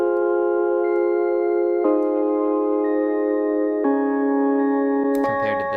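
A sad trap melody shifted up an octave and run through Gross Beat at half speed and a 75% mix, sounding as sustained tonal chords that change in steps every two seconds, loud and steady, with no talk.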